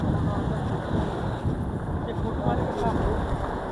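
Strong wind blows across a beach under bad, dusty weather with high water, a constant loud rushing roar buffeting the microphone, with waves or surf mixed into the noise.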